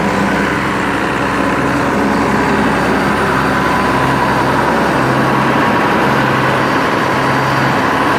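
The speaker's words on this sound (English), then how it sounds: "Alice is a 1979 model Alice Chalmers 7000 for any of you that know about tractors, 115 horsepower" A 1979 Allis-Chalmers 7000 tractor, 115 horsepower, runs steadily nearby with a low, continuous diesel drone and a faint periodic hum, no talk over it.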